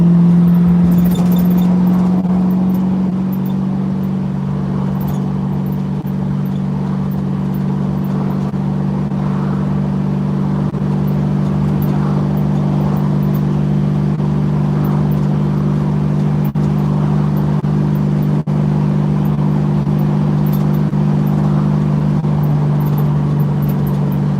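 A 1968 Ford Mustang with a four-speed manual gearbox drives steadily, its engine droning loud and close inside the cabin with a shift in pitch early on as the gears change, then a sustained cruising hum.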